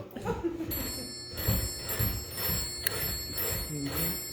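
An old rural telephone bell rings a series of short, evenly spaced bursts that signal a fire, fairly faint, with a voice murmuring underneath.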